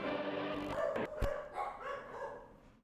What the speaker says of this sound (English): the dogs are barking because they're playing